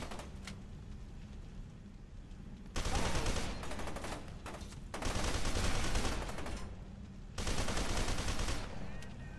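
Sustained gunfire in the shooter F.E.A.R. 2: Project Origin, with dense bursts of automatic fire and bullet impacts arriving in three heavy waves, loud and close, separated by quieter stretches of rattling shots and room ambience.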